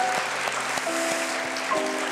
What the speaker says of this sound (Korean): 자, 나오실 수 있도록 힘찬 응원의 축하의 박수 쳐주시면 감사하겠습니다